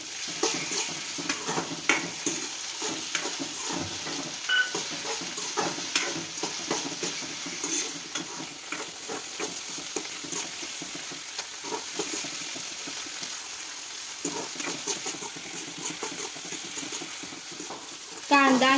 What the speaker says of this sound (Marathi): कांदा सोनेरी कलर येईपर्यंत भाजून घ्यायचा. यामध्ये चिरलेला एक टोमॅटो आपण घालतोय.